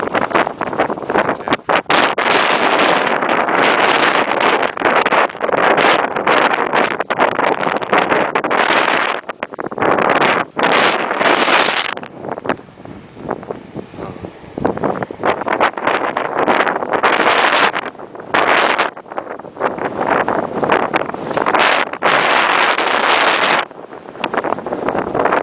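Strong blizzard wind roaring and buffeting the microphone in loud sustained gusts, dropping briefly to quieter lulls before surging again.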